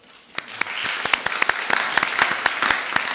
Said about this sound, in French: Madame Nathalie Keller, que je vous demande d'applaudir